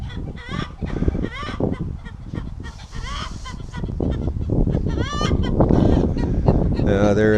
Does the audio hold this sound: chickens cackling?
yes